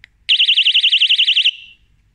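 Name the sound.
Rockbros electric bicycle bell ringing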